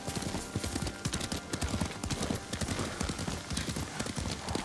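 In the video game Ghost of Tsushima, a horse's hooves clip-clop steadily and close by at a brisk riding gait, with the horse briefly whinnying and snorting, and occasional speech mixed in.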